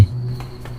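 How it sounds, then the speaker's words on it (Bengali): Crickets chirp steadily at night in a horror story scene, a thin continuous insect tone with a low hum beneath it, brief and fairly close. "একটানা ঝিঝি ডেকে চলেছে"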